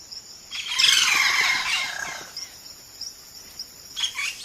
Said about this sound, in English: A single bird can sound like a chorus.